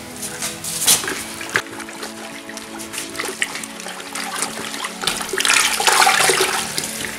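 Ceramic glaze made from dry materials is stirred with water using a big wooden stick, giving steady sloshing and swishing. The swirling grows louder and wetter toward the end.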